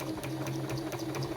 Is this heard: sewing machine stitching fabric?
yes